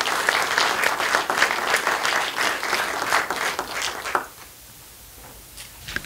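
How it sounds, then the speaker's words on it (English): Steady applause from a sizable panel discussion audience, loud and dense, fading abruptly to near quiet with a few scattered late claps. "So we'll give a round of applause to Amber."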